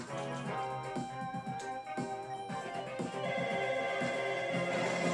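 A phone rings in a Pokémon video game, a repeated electronic ringtone that plays steadily and fairly quietly over game sounds, with no talking.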